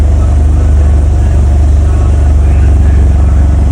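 A Mitsubishi Galant's engine runs after repair, a loud, steady, close idle with a deep low rumble that holds even for the whole stretch, with no voices over it.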